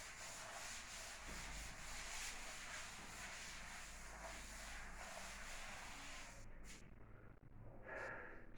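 A duster rubs writing off a classroom board in quiet, continuous scrubbing strokes that fade out near the end.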